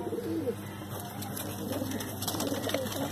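Male pigeons coo softly and steadily nearby, a faint low murmuring with no talk over it.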